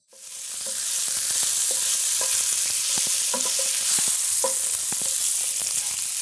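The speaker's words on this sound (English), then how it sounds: "we're going to stir this about. We're just going to let it cook until it starts to brown and the fat starts to render out these little lardons" Bacon lardons sizzle steadily in a pan, a constant loud frying hiss with repeated clicks and scrapes of a utensil stirring them, with no voices.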